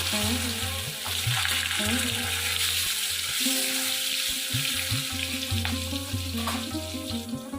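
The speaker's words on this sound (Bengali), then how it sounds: "গাজরগুলো আমি ভেজে নেবো গাজরগুলো আমি দিয়ে দিলাম" Carrot pieces frying in hot oil in a pan, a continuous close sizzle with occasional stirring scrapes, accompanied by a steady low hum in the background.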